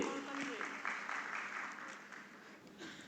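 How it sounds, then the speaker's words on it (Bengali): An audience claps for an award winner at a business awards ceremony, a dense, steady wash of applause lasting the whole moment, with a voice briefly audible through it. "আমরা সকলে ওনার জন্য করতালি দিই।"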